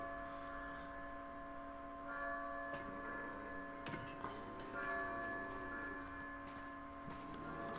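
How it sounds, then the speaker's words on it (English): A bell tolls in Resident Evil 4, its steady ringing tones sustained throughout, fairly faint beneath a low background hum with a few scattered thuds. "It's the bell."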